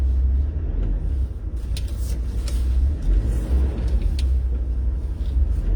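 A car engine idles in a low, steady rumble while the vehicle is parked and its wheels are straightened, close and continuous for the whole stretch with faint clicks and creaks above it.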